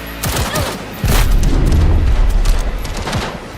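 Rapid gunfire bursts and booming shots from the video game Cyberpunk 2077, loud and dense, with repeated impacts layered over a continuous low rumble of combat.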